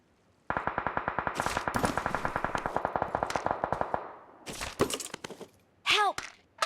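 Rapid automatic gunfire in a video game, a long sustained burst of evenly spaced shots followed by a few heavier isolated blasts and sharp impacts, loud and close.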